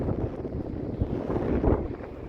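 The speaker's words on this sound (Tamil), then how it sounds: "பார்த்தீங்கன்னா காற்று பயங்கரமாக அடிக்குதுங்களா?" Strong wind buffeting a microphone outdoors, a continuous low rumbling roar with gusty swells, loud and alone without speech.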